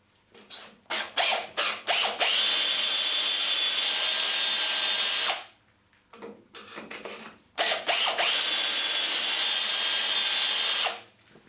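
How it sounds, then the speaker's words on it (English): A power drill bores pocket holes through wood clamped in a Trend pocket hole jig: a few short revving bursts, then two long sustained drilling runs separated by a brief pause, loud and close with no talking. "We can now proceed to drill the holes."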